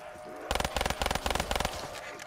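Automatic gunfire rattles in Black Ops 3 zombies, a loud, close burst of rapid shots grouped in quick clusters, with game ambience underneath.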